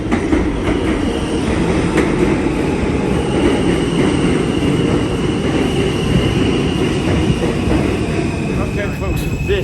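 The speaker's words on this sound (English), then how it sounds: "Okay folks, this is our train." A New York subway train bound for Coney Island rumbles loud and close with continuous clattering wheels and squealing metallic tones, and voices carry faintly beneath the noise.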